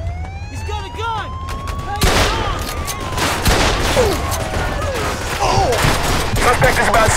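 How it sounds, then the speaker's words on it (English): Gunfire crackles in a Mafia II street shootout, rapid bursts of shots over wailing police sirens, loud and continuous, with voices shouting amid the chaos. "Why does everything have to turn into a shootout every 5 seconds?"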